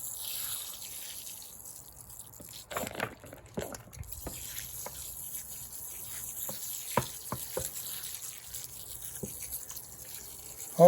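Water poured onto potting soil around a partly buried avocado seed, giving scattered soft splashes, drips and trickles that come and go over a quiet, faintly hissing background, with no voices.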